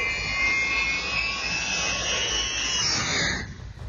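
An airplane flies close overhead with a loud, steady jet-engine roar that fills the scene before starting to fade away at the end.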